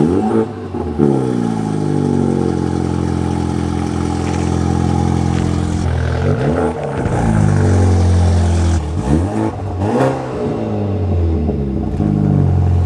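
A modified BMW F30 with a built N20 engine idles loudly up close, then revs sharply several times, each rise and fall of engine pitch standing clear above a steady rumble.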